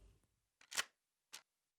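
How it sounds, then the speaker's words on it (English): A faint shotgun cocking sound is used as a snare layer. It gives two short, crisp mechanical clacks about half a second apart in near silence. "So I've got a shotgun cock-in for, I think, the snare layer, which just sounds like this."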